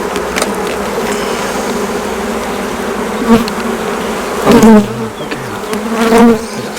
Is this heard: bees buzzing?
yes